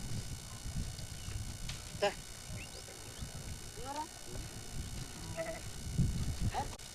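Sheep and lambs bleat in short, scattered calls over a steady background hum, with hoof shuffling and someone talking at times.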